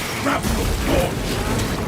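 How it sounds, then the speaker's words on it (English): A grapple launcher fires in Warhammer Space Marine 2, a short mechanical clank and whirring ratchet burst over steady battle noise, close and moderately loud. "Grapple launch!"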